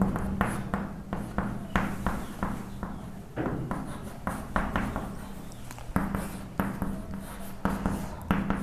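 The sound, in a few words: writing trigonometry formulas on a board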